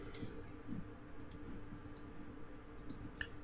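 Computer mouse clicks ring out close and sharp in small spaced groups, some doubled in quick pairs, over a low, quiet room hum with no speech.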